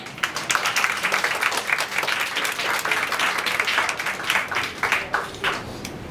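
Audience applause at a school singing contest, a sustained crowd clapping that stays loud and steady for about six seconds, with dense overlapping claps.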